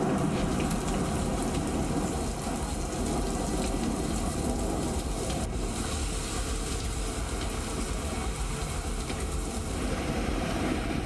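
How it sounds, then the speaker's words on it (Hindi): Heavy rain from Cyclone Michaung pours down in Chennai, a dense, continuous hiss of drops drumming on surfaces with no letup throughout. "चेन्नई में भारी बारिश जारी है।"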